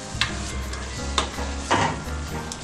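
Tomato sauce with dried beef, calabresa sausage and bacon stirred in a pan, a soft sizzle with three distinct scraping strokes of the utensil at a relaxed rhythm.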